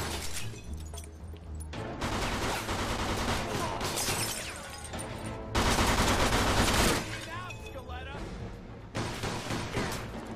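Gunfire in the Mafia 2 video game: repeated shots and bursts with crashes, loud and dense across the clip, mixed with game music and voices talking over it.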